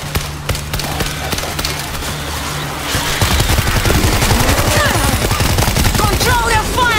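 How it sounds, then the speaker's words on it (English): Rapid automatic gunfire in the World War Z video game, loud and continuous, a dense stuttering burst that grows heavier midway with overlapping shots and effects. "Control your fire!"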